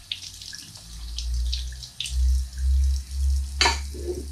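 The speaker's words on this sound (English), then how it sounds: "We're going to give it one last good rinse." Tap water runs in uneven gushes over a brined squirrel carcass being rinsed in a sink, close and fairly loud, with splashes and a few sharp knocks.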